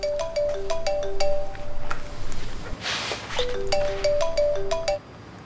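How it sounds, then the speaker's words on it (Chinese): A mobile phone ringtone plays indoors, a bright repeating melodic pattern of short tones in two bursts separated by a brief rustling noise, fairly close and clear with no talking. "不好意思啊，电话响了。"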